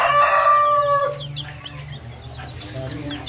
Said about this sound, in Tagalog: Yung mga Rhodes Island chicken o.